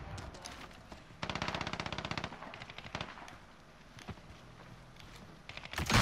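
Automatic gunfire rattles in a Call of Duty: Modern Warfare match, one sustained burst of rapid shots followed by sporadic single cracks and a final loud burst, with a voice talking over the game audio.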